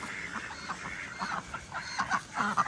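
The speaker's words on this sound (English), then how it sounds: "Let me give you some ducks. Good morning, ducks." A flock of ducks quacking and clucking in a busy, overlapping chorus, fairly close, with no talking.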